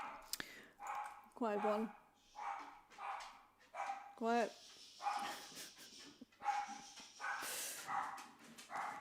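Several dogs in a multi-dog household barking at the doorbell, sharp repeated barks and yips coming in irregular bursts, with a person speaking quietly between them.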